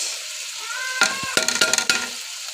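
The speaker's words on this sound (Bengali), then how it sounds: "এখন আমি ভালোভাবে আলুগুলো মিশিয়ে নিচ্ছি" River prawns and fried potatoes are stirred together in a pan, a soft sizzle running throughout with a handful of sharp scraping clatters from the spatula in the second half.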